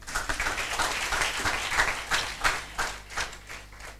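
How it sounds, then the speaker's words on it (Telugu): Applause for visiting sisters at a Catholic church feast celebration, a crowd's brisk clapping with irregular sharp claps rising and falling throughout, fairly close and steady. "వారికి కూడా చప్పట్లు కొడదాం."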